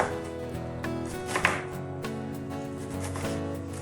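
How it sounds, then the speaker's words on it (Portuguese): A knife chops onion into small pieces on a board, with a steady run of quick, light taps repeating over several seconds under soft background music. "pode cortar aí ainda mais a sua cebola"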